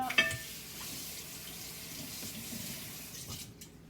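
Water runs from a kitchen tap into a pot being rinsed out, a steady near splashing hiss that carries on evenly and fades slightly toward the end.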